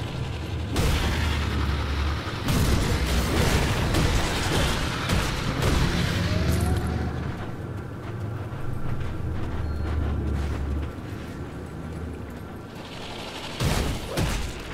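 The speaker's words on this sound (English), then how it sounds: "These explosions are nice." Skill explosions in the Grim Dawn action role-playing game rumble as dense, loud booming impacts layered with crackling bursts and rattling mechanisms, continuous for several seconds, then thinning out before a final sharp blast near the end.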